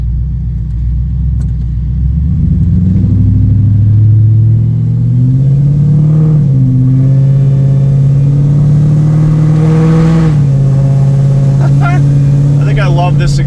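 Mercury Marauder with an SVT Cobra engine swap and custom exhaust, driving and revving hard: a loud, deep, continuous exhaust rumble that rises and swells as the throttle opens, close up throughout.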